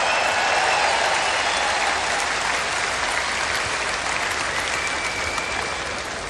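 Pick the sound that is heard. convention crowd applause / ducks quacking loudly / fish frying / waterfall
convention crowd applause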